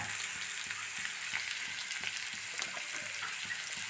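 Boti (tripe) frying in a pan with pepper and garam masala, a loud continuous sizzle with a steady rhythmic scrape of stirring underneath, close up and with no one talking.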